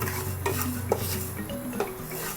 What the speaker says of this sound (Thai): ทำข้าวคั่วนะคะ คั่วข้าวสารนี่แหละ ให้ค่อนข้างไหม้เลยนะคะ